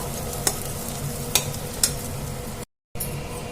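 Ponnaganti leaf powder fries and sizzles steadily in a pan while a spoon stirs it, with a few sharp scrapes and taps against the metal. The sound is close and continuous, briefly cutting out near the end, with no talk.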